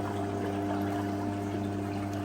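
A pump drains water from a koi quarantine tank into a bucket in a garage, giving a steady low mechanical hum with constant watery flow, close and unbroken throughout.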